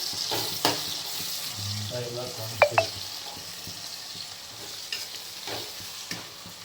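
Tomato frying in a pan on a home stove while chicken fry is being cooked: a soft, steady sizzle runs throughout, broken by a couple of sharp spatula clinks near the middle and light stirring.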